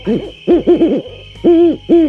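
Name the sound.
owls hooting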